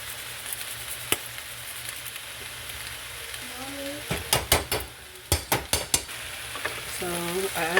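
Onion and garlic clove dropped into a hot pan for fried rice, sizzling steadily while a utensil scrapes and clatters against the pan in a run of sharp knocks, close and loud.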